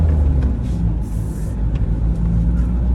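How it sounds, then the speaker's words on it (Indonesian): Ford Ranger XLS 2013 2.2 turbo diesel pickup, a former mining vehicle, accelerating with a heavy steady low engine drone and road rumble, heard from inside, with a brief hiss partway through. "Tapi kalau untuk turbonya sendiri, ini dia tarikannya mantep,"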